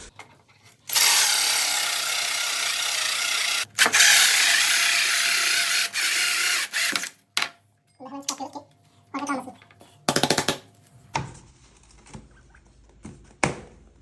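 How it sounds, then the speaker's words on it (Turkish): A loud power drill whirs steadily for several seconds while boring socket holes in a wall panel, stops briefly, then runs again, followed by short bursts of handling noise and scattered clunks. "O yüzden bunu dışarıda deliyoruz."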